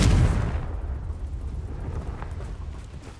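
A Confringo fire spell blasts in Hogwarts Legacy, one loud booming explosion at the start that rumbles and fades into a low, decaying tail.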